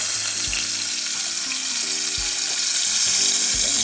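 Beef pinwheels searing in a hot pan after being flipped, a continuous close sizzle with a few low clunks of the pan and utensil, no talking.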